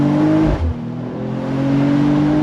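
A 2025 Mercedes-AMG CLE53 accelerating on throttle, a loud close engine drone with a brief dip like a gearshift, then a rising tone as revs climb, no voices.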